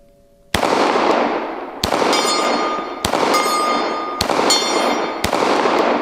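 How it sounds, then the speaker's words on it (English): Five loud gunshots, roughly a second apart, strike steel shooting plates outdoors, and each crack is followed by a ringing metallic clang that fades before the next shot. "I got to shoot that plate over there."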